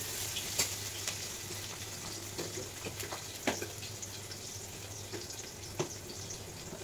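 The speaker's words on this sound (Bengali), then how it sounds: "লাল লাল করে একটু ভেজে নিলাম" Onions fry in a pan with a steady, close sizzle that runs throughout, broken by occasional soft clicks and taps of stirring. No voices are heard.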